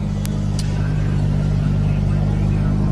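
A European Rally Championship car at the Barum Czech Rally Zlin 2019 start ceremony runs loud and close, its engine holding a steady, throbbing idle throughout.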